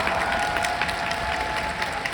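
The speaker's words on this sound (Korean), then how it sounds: "우리 감독님께 박수 부탁드리겠습니다." An audience at an open talk at the Busan International Film Festival applauds the director, a dense, steady wash of clapping that holds evenly throughout.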